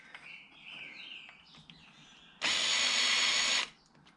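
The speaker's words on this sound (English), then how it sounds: "if you try and drill the pop rivet out" A power drill bores out a pop rivet on a shower door hinge, one loud steady whine of about a second after quieter handling sounds and faint chirping in the background.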